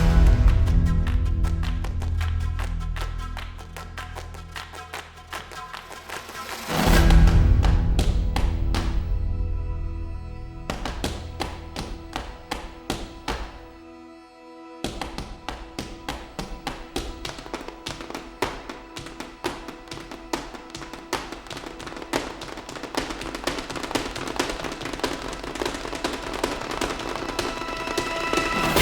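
Orchestral film score with rapid percussive taps of flamenco dancers' footwork, loud throughout, with a brief near-silent pause midway before the rhythm resumes.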